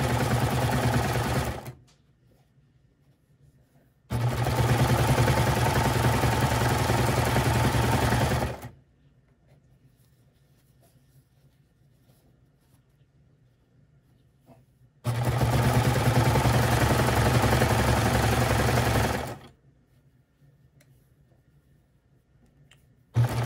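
A sewing machine stitches elastic in two long, steady, loud runs, stopping in near silence between them.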